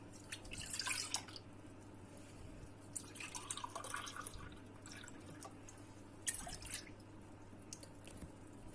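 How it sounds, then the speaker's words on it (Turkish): Milk poured into a bowl for a whipped-cream topping on poppy seed revani, heard as faint, intermittent splashing and trickling in a quiet kitchen with a low steady hum. "Bir buçuk su bardağı süt kabımıza döküyoruz."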